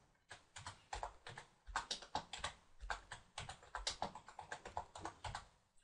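Quick bursts of computer keyboard typing as a swatch name is entered in Adobe Illustrator, crisp close key clicks in an uneven rhythm of about two dozen strokes, quiet and with no talking.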